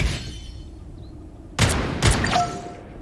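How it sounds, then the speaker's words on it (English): Two sharp gunshots in the video game Marvel Rivals strike a ghostly purple Mantis, separate punchy bursts over a quiet ambient bed, followed by a short rising chime. "if you shoot the purple Mantis"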